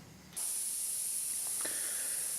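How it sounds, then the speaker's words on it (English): A spray bottle mists soapy water onto a flat car tire to find a leak: one continuous, close, steady hiss of spray with a couple of faint clicks partway through, and no talking. "We're going to go ahead and spray it on there."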